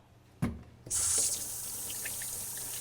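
Tap water running into a sink for handwashing in a home kitchen during cooking, starting with a clunk, then a steady hiss of flowing water that stays alone and fairly close.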